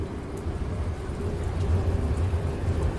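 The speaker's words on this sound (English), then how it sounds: "Heavy rain today." Heavy rain falling on a road outside a coffee shop in Osaka, Japan, a dense, steady hiss with a low rumble beneath it and no voices.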